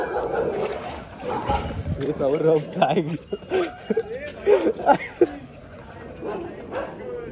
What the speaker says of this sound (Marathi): तेव्हा कुत्री भुंकायला लागले.